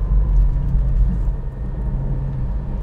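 A Porsche GT4 on ultra-high-performance tyres is driven on a wet handling track, heard as a loud, close, low engine and road rumble that swells and dips slightly over a few seconds, with no voices.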